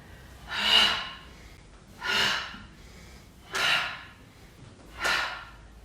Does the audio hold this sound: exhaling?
yes